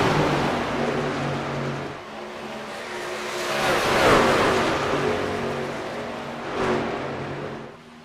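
Racing trucks roar around Auto Club Speedway in a truck series race, a dense, loud blur of engines with rising revs and a surge of passing machines, continuous throughout with no voices.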